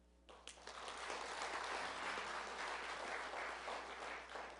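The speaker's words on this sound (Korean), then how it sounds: "우리 성가대 위해서 박수 한번" A church congregation breaks into warm, steady applause for the choir during a worship service, a brief quiet moment giving way to full clapping that holds evenly, fairly faint overall.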